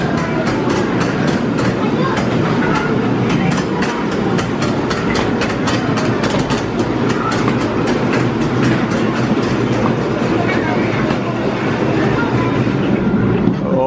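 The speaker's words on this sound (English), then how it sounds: "Let's go on the Savannah Express, a very nicely themed train ride here." The Savannah Express themed train ride at Lightwater Valley theme park rumbles along with a steady, loud engine drone and rhythmic clickety-clack of wheels throughout, with a voice talking over it.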